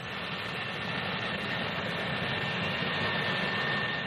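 A Hawker P.1127 single-jet VTOL aircraft engine gives a loud, steady, unbroken roar that holds at an even level throughout.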